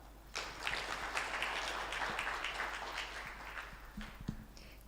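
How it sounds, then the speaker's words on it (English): Audience applause for a speaker at a national stakeholders' forum, a steady mid-level patter of clapping across the room that fades slightly toward the end. "Please, let's give her a clap."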